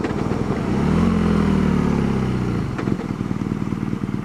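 A BMW R nineT motorcycle engine drones steadily while riding, rising in pitch then easing off, with a rougher, clattering rumble continuing to the end.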